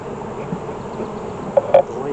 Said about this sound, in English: Boy, you got a lot of bees.